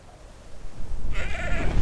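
A sheep bleats from a television drama, a single wavering bleat rising out of a low rumble of background sound, near and fairly loud, with no talking over it.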